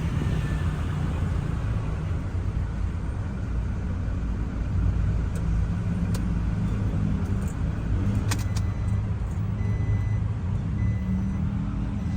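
A 2016 Toyota Hilux Revo 2.4 Prerunner pickup with a manual gearbox idles with a steady, low diesel rumble, heard close up, with a few faint metallic clicks over it.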